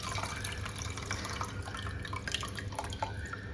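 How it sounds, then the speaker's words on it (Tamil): Dissolved tamarind water pours steadily into a pot of hotel-style tiffin sambar for mini idli, a continuous close trickling and dripping with small splashes, no voices. "இப்போ புளியை கரைச்சி இதில் ஊற்றிக்கலாம்."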